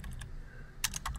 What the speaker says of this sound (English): we're going to just go ahead and type out a brief description